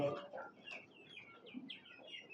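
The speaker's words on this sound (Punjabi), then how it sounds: "ਮੁਰਗਾ" A desi rooster clucks in a series of short, rhythmic calls, fairly close and moderately loud, with a brief faint voice at the start.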